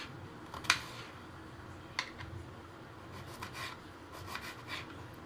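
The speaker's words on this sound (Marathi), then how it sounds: "मग ह्या पद्धतीने अशी कोबी कट करून घ्यायची।" A knife cuts cabbage into thin slices for a cabbage bhaji, a series of soft, close scraping strokes with a couple of sharper knocks against the board.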